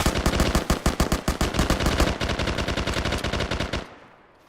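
Rapid automatic gunfire in the Arma 3 military simulation game, a loud, close, continuous burst of evenly spaced shots lasting several seconds before cutting off into a short fading tail.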